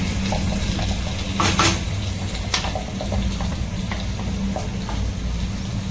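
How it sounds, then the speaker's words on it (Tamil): Water is poured into a hot potato and capsicum gravy in a pan, raising a loud, steady sizzle and bubbling that runs without pause and without any talking. "இந்த கிரேவிக்கு தேவையான அளவுக்கு தண்ணி சேர்த்துட்டு"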